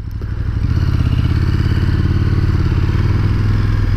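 KTM 1290 Superduke R motorcycle being ridden, its engine droning loud and steady close to the microphone with a low rumbling pulse, rising in level over the first half second and then holding constant.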